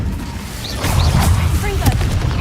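A fire spell cast in the Hogwarts Legacy video game bursts out in a loud whooshing blast amid dense game effects, with a voice heard in the background.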